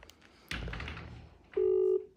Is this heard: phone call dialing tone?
yes